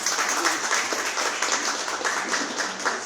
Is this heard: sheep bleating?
no